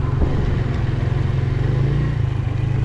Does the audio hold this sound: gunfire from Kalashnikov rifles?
no